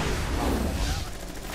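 Gunfire in Rainbow Six Siege, a dense, loud burst of shots and booming blasts lasting over a second before easing slightly, with no talk over it.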